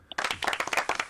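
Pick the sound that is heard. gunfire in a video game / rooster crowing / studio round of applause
studio round of applause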